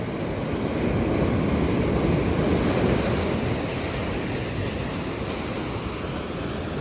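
Ocean surf breaks steadily and loudly on the beach at Palomino, Colombia, a continuous roaring wash of waves with wind buffeting the microphone and no voices.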